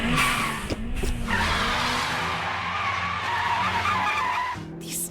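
A car on studless tires skids and slides across snow, a loud continuous tire-and-engine roar with shifting engine tones through the whole stretch, fading slightly near the end.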